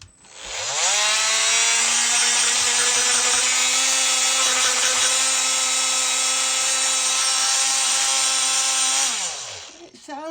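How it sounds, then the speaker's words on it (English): Makita CXT cordless oscillating multi-tool running, a loud steady buzzing whine that starts abruptly, holds an even pitch for about eight seconds, then winds down, close up. "So this is the original CXT multi-tool."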